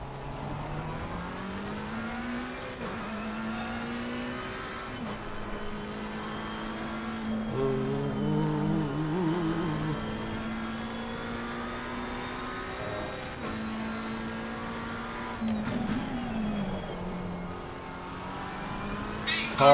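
Race car engine in a racing video game holding a steady mid-pitched drone that rises and dips with gear changes and revs, continuous across the run, with someone talking over it.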